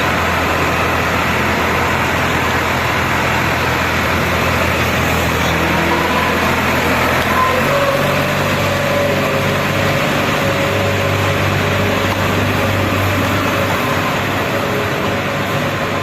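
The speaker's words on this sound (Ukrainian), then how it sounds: "Зараз трактор йде під е, цей." A low, steady tractor engine drone runs throughout, even and unbroken, like heavy machinery idling or running nearby on a dairy farm, with no voices.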